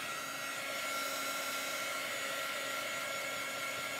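Hair dryer blowing over wet shimmer chalk paste on a crafting stencil: a constant close, even whooshing whine, steady from start to finish with no talking.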